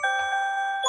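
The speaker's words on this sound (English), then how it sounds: "Sorry, that was my alarm." A phone alarm rings as a single bright, steady electronic chime lasting about a second, loud and close, with no talking over it.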